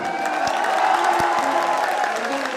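Audience applauding at a live ghazal concert, a loud continuous wash of clapping with crowd noise and a sustained musical tone underneath, filling the whole short stretch.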